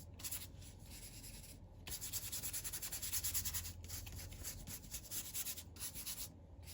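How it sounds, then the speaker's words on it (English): Dry, tattered paintbrush scrubbing acrylic paint onto mixed media paper, a steady close rasping rub with brief pauses between strokes, no talk. "I'm just using acrylic paint and a dry paintbrush, one of my kind of more tattered brushes that I use to just scrub stuff like I am doing now."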